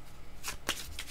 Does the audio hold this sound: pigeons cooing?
no